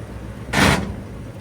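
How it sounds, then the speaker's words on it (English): A 1948 Cadillac skids to a stop under its emergency brake, a single loud broadband scrape of tires lasting about a quarter second, close by over a steady background hum. "we are driving the car under the power of the e-brake right now. That's why you hear all the skidding."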